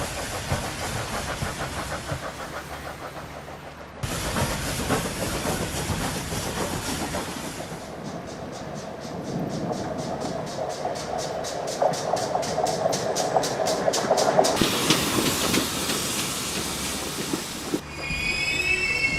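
Steam train running in snowy Midland conditions, with a continuous rolling rumble, metallic wheel squeal and a rapid clickety-clack of passing wagons, loud and close, with abrupt shifts in the noise partway through and no talk.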